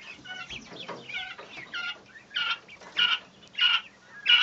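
Texas A&M quail cluck and chirp in a cage, a series of short close calls growing louder toward the end, with no talking.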